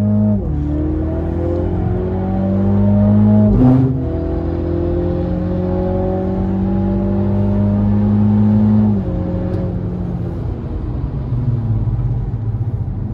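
A Mini GP3 with an automatic gearbox on the Zolder circuit pulls hard from inside the cabin, engine note climbing steadily, then drops through the gears with sharp shifts before rising again, a loud continuous drone with no talk.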